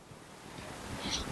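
Strong sea waves crashing against a seawall on the Pantura coast, a brief rushing wash of surf with wind noise, fairly loud and close, no voices.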